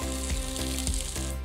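Onions, shallots, garlic, ginger and green chillies fry in oil with a dense, close sizzle and light pulsing stirs, steady for the whole short stretch.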